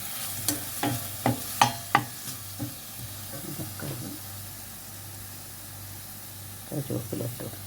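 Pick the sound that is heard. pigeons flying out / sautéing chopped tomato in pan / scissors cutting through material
sautéing chopped tomato in pan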